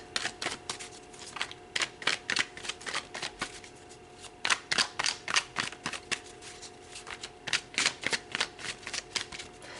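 Tarot cards shuffled in quick bursts of crisp riffling flutters, repeated steadily through the whole stretch, close and fairly loud with no talk over them.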